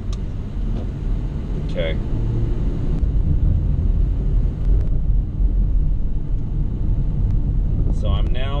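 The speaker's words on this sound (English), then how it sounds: "So I'm now driving northwestward on Evans Road." Car driving northwest along Evans Road through prairie in northeastern Bexar County, Texas, giving a steady low road rumble and engine drone throughout, with a brief spoken word.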